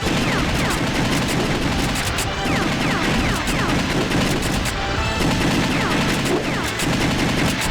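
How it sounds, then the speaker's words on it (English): Gunfire in the video game The House of the Dead 2 crackles in rapid, repeated bursts, loud and continuous, with brief lulls and impact noises mixed in and no voices. "we can shoot the weak points during most of its attacks"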